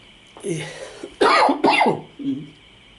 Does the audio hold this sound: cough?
yes